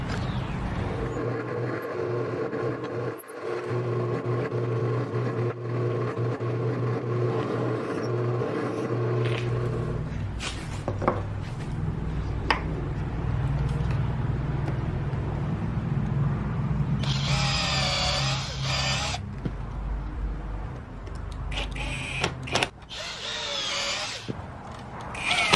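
A power drill bores screw holes into a recliner seat frame in a series of bursts, whirring close up with scraping and handling noises between runs.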